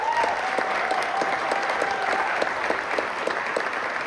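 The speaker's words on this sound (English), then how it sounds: "Can we give one more round of applause to our host this evening" An audience at a gala applauds steadily, with dense continuous clapping that fills the room at even loudness for the whole stretch. A faint tone carries underneath, and there is no clear talk.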